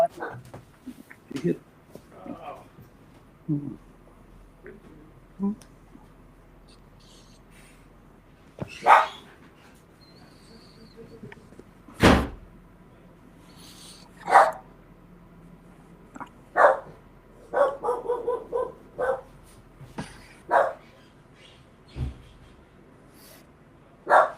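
A pet dog barks, yips and whimpers in a home, with sharp, loud barks scattered irregularly and rising in excitement, mixed with a person talking over the noise.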